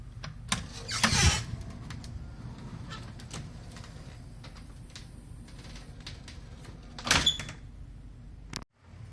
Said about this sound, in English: storm door closer.